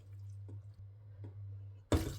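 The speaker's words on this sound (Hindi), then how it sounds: "ये 2 कप पानी के डाल दिए ताकि गोश्त अच्छी तरह हमारा गल जाए।" Water poured into a pot of mutton curry on a stove, a short splashing burst arriving at the end after a steady low hum with faint clinks.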